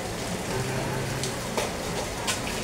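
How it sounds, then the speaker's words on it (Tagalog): Heavy rain pouring steadily during the rainy season, a dense close hiss of drops on surfaces with occasional louder splashes, continuous and fairly faint, with no voices. "Ngayon, tuloy-tuloy ang ulan."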